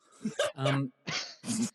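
A voice imitates a dog's woof in a few short, loud barking bursts, close up and alone.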